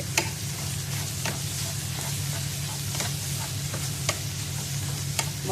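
Grated coconut is mixed into a sweet momo filling in a pan, with a soft continuous sizzle and occasional crisp spoon taps spaced irregularly throughout.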